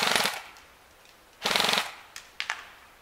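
A Krytac Trident SPR airsoft electric rifle firing full auto at a range of about 120 feet: two short, rapid bursts about a second and a half apart, each a quick mechanical rattle, followed by a few faint single cracks.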